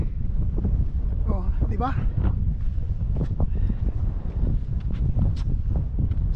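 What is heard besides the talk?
strong cold wind on a mountain peak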